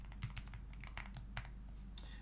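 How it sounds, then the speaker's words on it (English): Keys clack on a computer keyboard in irregular bursts of close, crisp taps, with no talking over them. "so let's keep typing while it's doing that"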